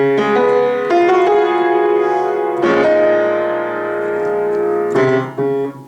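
Sustained piano chords from the intro of a song ring out one after another, each struck and left to decay, in a slow, steady sequence with no voices.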